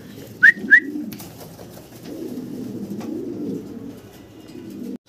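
Two short bird calls ring out near the start, then a steady low murmur of birds and background noise fills the rest.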